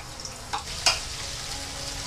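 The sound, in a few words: sautéing spice paste in frying oil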